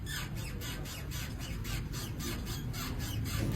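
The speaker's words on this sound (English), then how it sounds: "Rubber bushing." Car rubber bushing squeaking, a rhythmic repeated squawking squeal about every third of a second, steady and close over a low rumbling background.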